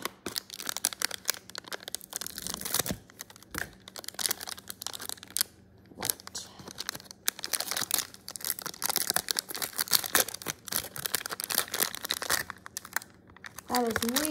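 Crinkly plastic packaging around modelling clay, including a green block, is cut and torn open up close, with dense, steady crackling and rustling throughout, a few sharper crunches, and brief speech.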